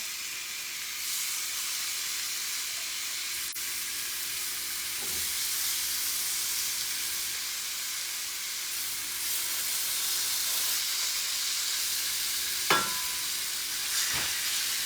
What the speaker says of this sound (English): hear that sizzle? That is the sign of a good hot skillet.